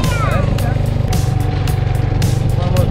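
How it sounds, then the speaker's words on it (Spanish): A motorbike engine idles and runs steadily, heavily loaded with several riders, producing a close, even buzzing rumble with faint rhythmic pulsing throughout the short stretch. "A ver si arranca la moto."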